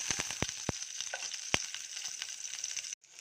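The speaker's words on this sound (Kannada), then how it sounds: "ಇದು ಸ್ವಲ್ಪ ಫ್ರೈ ಆಗಲಿ." Onion and garlic frying in a couple of spoons of oil in a pan, a quiet steady sizzle with scattered sharp pops and crackles, close up with no talk, cutting off abruptly near the end.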